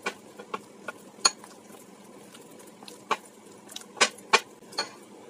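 Marinated chicken being worked by hand with gram flour (besan) for Bengali-style pakoras, giving soft wet squelches and scattered clicks and taps against a bowl, with a few sharper knocks now and then. Fairly quiet and close, with no talking.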